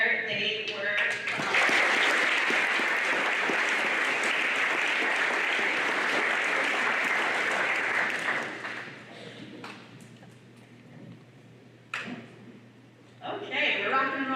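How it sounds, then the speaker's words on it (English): Audience applauds a high-school choir at a Veterans Day program, broad sustained clapping from a large crowd filling most of the span, tapering off near the end before a brief burst returns. "let's just give one more round of applause to the choir"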